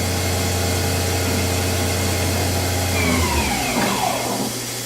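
A Haas TL-25 CNC lathe from 2005, with a 30-inch swing and a 10-inch chuck, runs its main spindle with a steady mechanical whir, and a rising whine sweeps upward partway through as the spindle speeds up.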